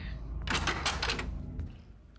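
A red door in the game Homebody opens with a short burst of creaking and scraping in the middle, then a soft thunk as it settles, fairly close against a low background hum.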